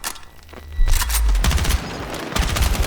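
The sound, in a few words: gunfire in the video game Battlefield 6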